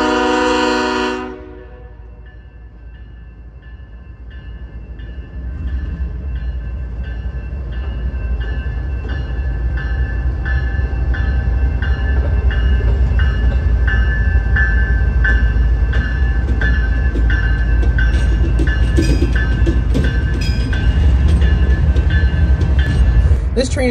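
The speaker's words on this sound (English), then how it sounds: "It was an NS ES-44DC running Long Hood forward as light power" A Norfolk Southern ES44DC diesel locomotive running long hood forward as light power rumbles past loudly and close at Delray, its horn blaring in long sustained blasts over the growing roar of the engine and rolling wheels.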